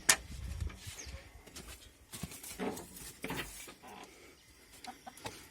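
Chicks cluck and cheep close by in scattered bursts while feeding, with light rustling and clatter around them.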